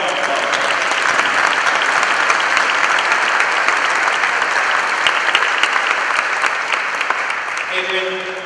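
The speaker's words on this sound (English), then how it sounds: "Adrian, let's give her a round of applause" Sustained audience applause fills a change of command ceremony at a naval base, dense and steady clapping throughout with a brief tail at the end.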